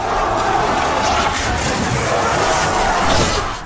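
A large crowd of Ottoman soldiers roaring and shouting together in a sustained, loud battle cry as they charge Constantinople in a siege film, dense and continuous throughout.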